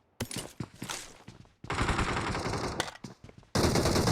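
Automatic gunfire from a firefight in a battle royale video game, several loud rapid bursts separated by short pauses, close and sharp with no talk over them.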